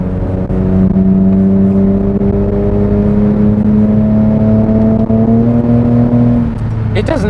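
A Lexus IS 300 pulls hard along a road, its engine note climbing steadily in pitch for about six seconds before lifting off, loud and close from inside the cabin.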